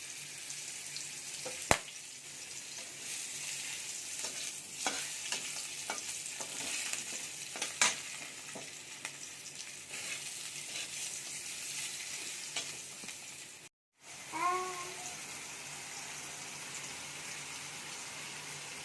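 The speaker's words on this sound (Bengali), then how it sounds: "এই মাছের তেলের মধ্যে আমি পটলগুলোকে ভেজে নেব।" Pointed gourd sizzles steadily in hot oil left from frying fish, with faint stirring scrapes, a brief drop-out near the end, then the frying carries on.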